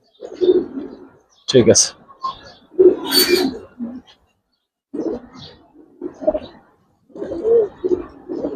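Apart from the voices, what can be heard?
silver and coloured pigeons cooing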